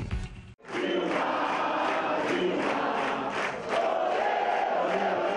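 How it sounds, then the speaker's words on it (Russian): A large crowd of Dilma Rousseff supporters chants her name to a football chant tune, loud and sustained, voices rising together after a brief gap at the start. "Толпа сторонников президента Бразилии Дилмы Русов на мотив футбольной кричалки распевает имя своего кандидата"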